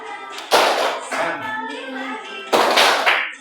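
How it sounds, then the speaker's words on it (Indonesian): A group claps hands together during a guided movement exercise, two bursts of loud, close clapping separated by a brief pause, with a voice speaking between them. "SPT-nya bertepuk tangan"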